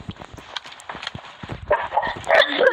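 A dog in a video game barks and yips in short bursts over running footsteps, the sound swelling louder toward the end amid other game noises.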